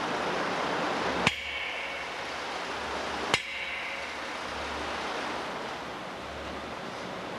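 Two sharp, loud hammer blows on a diesel differential part, about two seconds apart, ringing briefly over a steady windy outdoor background.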